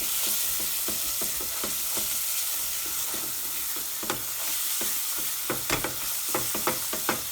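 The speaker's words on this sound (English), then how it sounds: "add a tiny bit of hot water and give it a stir and just cook it again" Spices cooking in a pot with a splash of hot water for a chicken madras, a steady hiss of sizzling under intermittent scraping stirs that grow sharper toward the end, with no talking.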